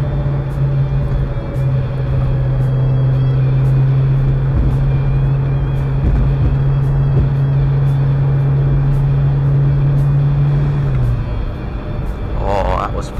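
A car engine holds a steady, droning high-revving tone on a road without an upshift, loud and close with road noise, the pitch dropping near the end as the engine eases off.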